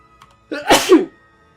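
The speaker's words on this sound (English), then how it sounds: "Sorry, I sneezed." A single sharp human sneeze, close and fairly loud, with a quick intake and an explosive burst lasting about half a second, with no other sound around it.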